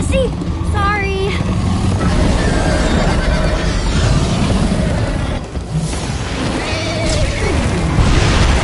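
A horse neighs in Minecraft Story Mode, a high whinny rising near the start over a steady bed of game music and ambience, with voices talking throughout.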